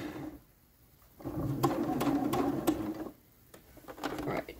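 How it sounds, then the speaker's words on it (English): A sewing machine stitches a dress in two bursts of steady mechanical whirring, each lasting around two seconds, with a short pause between them and no talking. "that's why I'm going to sew all the way down"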